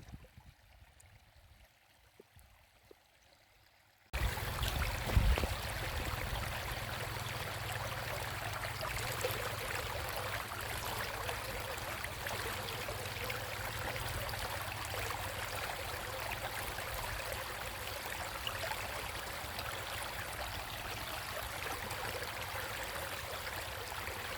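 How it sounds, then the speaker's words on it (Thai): After a few quiet seconds, a steady rushing of falling water starts and continues loud and unbroken, a small waterfall heard up close in Sakon Nakhon, Thailand. "เป็น น้ำตกเล็กๆ นะครับ ไม่ใหญ่"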